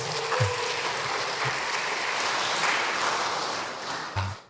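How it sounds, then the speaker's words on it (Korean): A church congregation applauds during a worship service, a broad wash of many hands clapping at once, fairly distant and sustained throughout before fading at the close. "박수"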